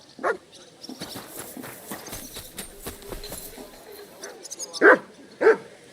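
A dog barks a few times at scattered moments in Kingdom Come: Deliverance II, with clopping hooves and game sounds around it and the loudest barks coming near the end.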